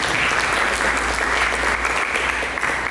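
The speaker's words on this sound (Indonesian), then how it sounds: "Berikan tepuk tangan bagi Yesus." Steady, dense applause from a church congregation fills the space, even and unbroken throughout with no voices standing out.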